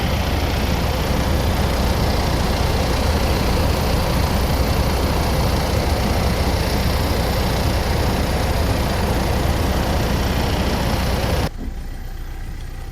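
A Mitsubishi Pajero 3.2 with about 210,000 km runs with its cooling fan at full speed, a loud, steady engine drone and rushing airflow that drop off sharply near the end.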